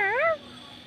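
A young child imitates a cat's meow with a single rising and falling mew, then quiet room tone.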